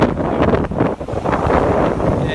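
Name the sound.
wind blowing during Hurricane Irma in Miami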